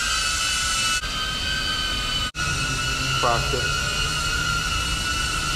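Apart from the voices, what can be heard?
DJI Avata drone flying indoors, loud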